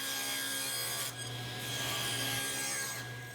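Handsaw cutting wood to trim the ends of a large wooden mallet square, a steady close rasping stroke that runs continuously with brief shifts between passes.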